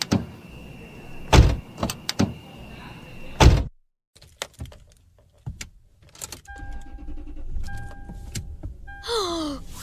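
Car doors open and slam shut as people climb into a vehicle in a noir thriller audio drama, several sharp thuds followed by rustling, a key jingle and a power window whirring, with no talk.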